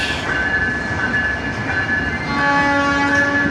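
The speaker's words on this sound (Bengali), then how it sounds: "this is my train, silk city express" The Silk City Express passenger train idles at Kamalapur railway station with steady mechanical rumble and a sustained horn-like tone, later joined by rising tonal whines, no voices.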